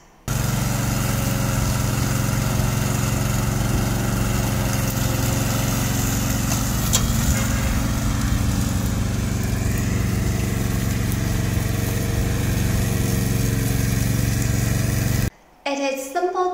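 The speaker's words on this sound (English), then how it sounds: "We are a remote control lawnmower factory, and this is one of our products." A small remote control lawn mower motor runs steadily and loudly with a constant droning hum, then cuts out abruptly near the end before sputtering briefly.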